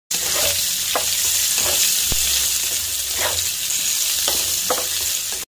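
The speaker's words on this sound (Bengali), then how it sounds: "একটু লাল লাল করে ভাজা হয়ে গেছে এবার এটাকে তুলে রাখছি আর এই তেলেই বাকি রান্নাটা করব" Small new baby potatoes fry in oil in a pan with a close, steady sizzle, broken by occasional stirring scrapes and taps, with no talking.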